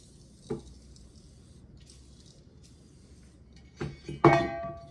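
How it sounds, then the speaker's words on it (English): Cleanser and oil being applied to the dust cover of a Zastava M70 AK47 rifle, with a soft wet squish early on and then a cluster of sharper squirts and clinks near the end over quiet background. "let's give the dust cover a nice coating of cleanser and oil"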